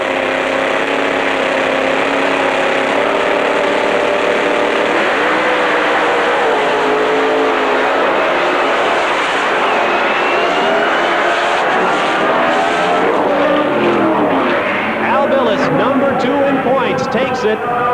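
A supercharged Chevrolet drag race car roars loudly at an IHRA nationals drag strip in Norwalk, its engine note climbing steadily under a commentator's voice throughout.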